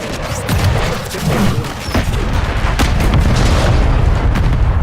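A Semtex grenade exploding in Call of Duty, a loud blast followed by crashing, rumbling booms and scattered sharp cracks that continue for several seconds.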